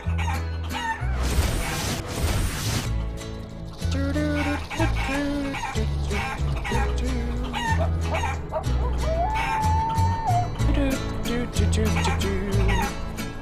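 Chicken clucking and crowing sound effects from the video game Guacamelee, repeated over busy game music with a loud burst near the start.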